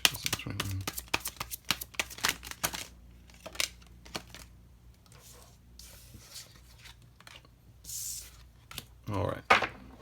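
Oracle cards being shuffled by hand, quick riffling flutters and slaps in bursts at the start and again near the end, close up, with a voice talking in between.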